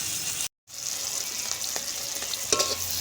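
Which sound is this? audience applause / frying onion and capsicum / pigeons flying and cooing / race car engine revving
frying onion and capsicum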